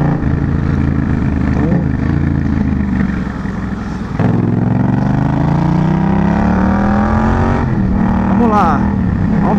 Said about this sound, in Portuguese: Então o som do escape, ele já sobe, ele vem por cima aqui, né?